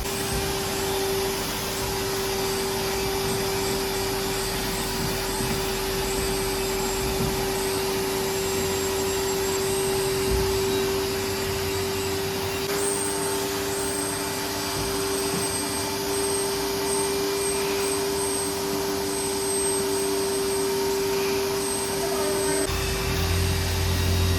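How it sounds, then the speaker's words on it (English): A vacuum cleaner cleans the interior of a Mahindra BE6, droning steadily and loudly with a constant whine that barely changes from start to finish. "So right now they're vacuuming it first"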